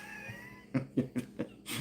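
A cat meows several times in quick succession, short rising calls spaced about a quarter second apart, close and fairly loud indoors, with a faint steady tone in the background.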